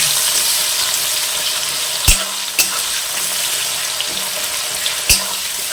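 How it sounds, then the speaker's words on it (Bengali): Chopped onions fry in hot oil with chilli, a bay leaf and spices, giving a steady broadband sizzle with a few sharp utensil knocks against the pan, all close and with no talking. "ভালো করে ভেজে নেব।"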